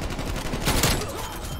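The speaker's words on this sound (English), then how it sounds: "I'm getting shotgunned by Soul Hunter!" Gunfire from Call of Duty Cold War, a dense burst of shots and blasts from online multiplayer combat, loud and close, blending into a steady wash of game noise with no speech.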